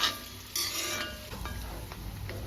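Curry leaves drop into a hot pan with brinjal fry, giving a short burst of crackling sizzle followed by stirring scrapes and light utensil clinks, close and without talk.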